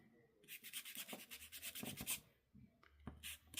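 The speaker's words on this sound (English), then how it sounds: "come in with your sander and just sand it a bit to take the glare off" Sandpaper or a hand sander rubbed over a paper butterfly piece in a junk journal, giving a series of close, quiet scratchy rubbing strokes in quick rhythm with a brief pause before a final burst.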